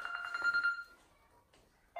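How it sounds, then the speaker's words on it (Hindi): A telephone rings with a brief electronic tone pattern in an indoor office setting, loud at first and then fading out, followed by quiet background noise. "मेरे को ये फोन उठाना है"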